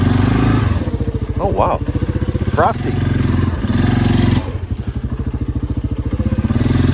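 A 1993 Yamaha Big Bear ATV, just repaired after a no-spark fault, runs close by, its single-cylinder engine idling in a steady, loud putter with a brief dip, while someone talks over it.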